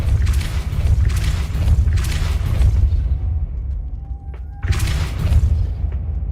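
Depulso repelling spell cast in the Hogwarts Legacy video game in the Map Room, heard as loud, sustained blasting whooshes with a quieter gap holding a faint tone before one more forceful burst.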